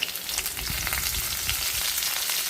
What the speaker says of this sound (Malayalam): ആദ്യം കടുക് വറുത്തിട്ട് ഈ മുരിങ്ങയ്ക്ക ഇട്ട്